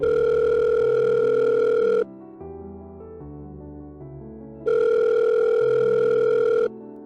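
An outgoing phone call rings back with two loud, sustained electronic tone bursts, separated by a quieter stepping melodic pattern, heard alone without voices.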